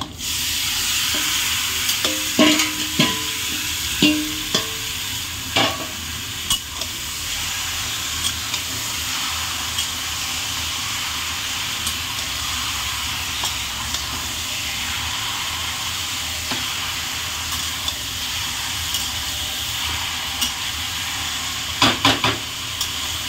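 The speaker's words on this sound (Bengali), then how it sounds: "5 মিনিট মতন মাংসটা এর সাথে পেঁয়াজের সাথে ভালো করে ভেজে নেব বন্ধুরা।" Poultry chicken meat fries with browned onions in a pan, a continuous loud sizzle and hiss with clattering stirring strokes near the start and again near the end.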